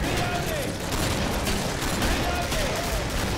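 Gunfire in Killing Floor, a dense crackle of rapid shots under continuous game noise with a voice talking over it.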